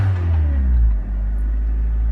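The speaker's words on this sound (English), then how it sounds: "I'll rev it up real quick." Honda Civic fitted with a boost gauge idling and revving briefly, a steady close low rumble with a slight dip midway, no talking.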